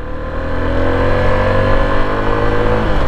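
Suzuki V-Strom SX 250 motorcycle accelerating in first gear, its engine rising steadily in pitch as it revs, loud and close.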